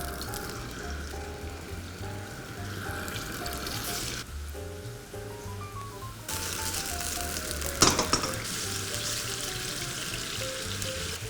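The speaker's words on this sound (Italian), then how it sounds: "l'olio è bello bollente, mettete il salmone e fate attenzione agli schizzi." Cubes of salmon fry in very hot oil in a pan, a dense continuous sizzle and spatter with background music playing throughout.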